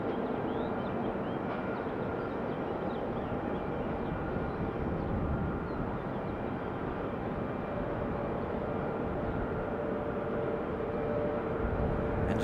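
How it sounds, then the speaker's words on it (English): A GlobeX Airbus A321 airliner moving on the ground at Raleigh-Durham International Airport gives a steady, moderately distant jet engine roar with faint whine, continuous throughout with no voices. "As we get a look at GlobeX and that A321 getting a move on here."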